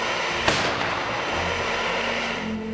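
Russian artillery shelling Ukrainian positions: a single sharp blast lands about half a second in, over a steady rumbling background with faint distant thuds.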